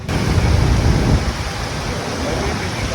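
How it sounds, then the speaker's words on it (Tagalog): Heavy rain pours down ahead in a steady, dense broadband hiss, loud and close, with a slightly stronger low rush during the first second before it settles into an even roar. "Ang ulan dun, ang lakas dun sa unahan, oh, ng ulan."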